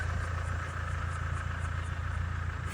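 A car engine idles steadily at an Odesa market, Privoz, producing a continuous low rumble with a constant hum that does not change for the whole stretch.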